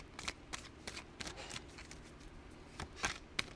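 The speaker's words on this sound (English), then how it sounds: "We're just going to make sure we shuffle really good for you here." Tarot cards being shuffled by hand up close and quietly, a series of short riffling bursts in an irregular rhythm.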